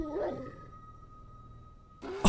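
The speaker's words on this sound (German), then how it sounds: "und ein Hund noch. Oder Wolf oder was?" A dog or wolf in the video game 7 Days to Die gives a short yelping bark at the start, then a steady electronic tone holds before a louder burst of game noise at the end.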